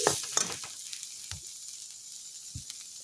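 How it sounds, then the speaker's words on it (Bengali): Cumin powder stir-fried with spices in a pan gives a faint, low sizzle, broken by a few soft scrapes of the spoon spaced apart. "দিয়ে দিলাম জিরে গুঁড়ো। এখন একটু নেড়ে চেড়ে নেব আমি।"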